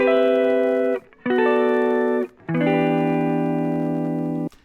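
Electric guitar run through a lo-fi static effect in Ableton Live plays three loud, sustained chords in a row, each ringing for about a second before a brief gap, with a faint hiss beneath.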